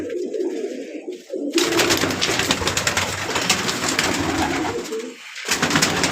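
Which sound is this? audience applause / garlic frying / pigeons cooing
pigeons cooing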